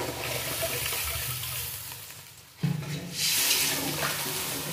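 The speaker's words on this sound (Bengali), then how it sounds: "বেশি করে জল দেবো, পাতলা ঝোল খেতে ভালো লাগে।" Water is poured into a simmering fish curry with new squash, a broad splashing rush that thins out, breaks off, then resumes louder and steady near the end, with no talking.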